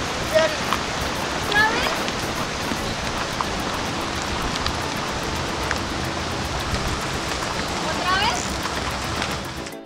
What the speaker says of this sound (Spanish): Pero fue un aguacero, tumbaraguatos, y corrió a todo el mundo.